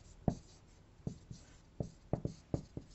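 Pen writing out an equation for a transistor's saturation condition, heard as a string of short, distinct taps and scratches at an irregular pace, close and quiet, with no talk.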